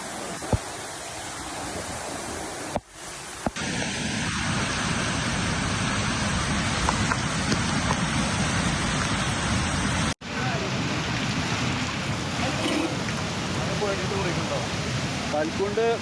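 Flash flood water rushes through Karuvarakundu after heavy rain, a loud continuous roaring wash heard outdoors with brief cuts and some voices in the background.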